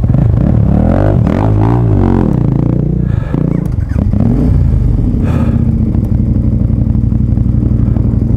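KTM 1190 motorcycle engine close up, loud and low, rumbling with shifting pitch and wavering revs through the first half, then a clattering stumble as it loses ignition, leaving a rough low rumble and wind.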